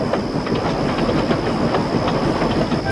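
A train rumbles steadily over a bridge onto a railway, a continuous loud low roar with faint rhythmic clicking of wheels and a thin high whine running throughout.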